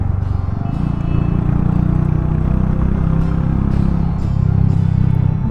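Royal Enfield Hunter 350 single-cylinder motorcycle with aftermarket silencer, engine braking as throttle closes; steady loud low thumping exhaust rumble throughout, close up, with slight swells in level and no talk.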